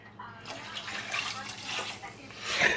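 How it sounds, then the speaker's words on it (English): About a cup of water pours into a pot of chicken adobo, a close, steady splashing trickle that rises toward the end, with a soft kitchen hum underneath. "So I'm gonna go ahead and add roughly about another cup or so of water."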